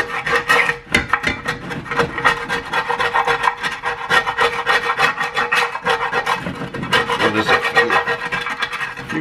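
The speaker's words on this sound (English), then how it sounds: "test out this here scraper" A metal scraper rasps repeatedly across a cast iron pan, a steady series of loud, close scraping strokes with brief gaps between them.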